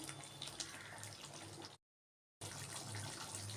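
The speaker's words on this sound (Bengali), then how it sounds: "এর জন্য একটু কম আঁচ করে দিয়ে আমি কষে নিচ্ছি" Mutton sautéing in oil over low heat, a soft, steady sizzle that cuts out briefly and then resumes, quiet, with no voices.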